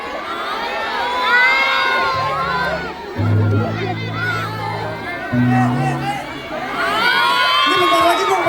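Concert crowd at a live show in Makassar, screaming and cheering loudly and continuously, with high shrieks rising over a dense wall of voices and some low tones underneath.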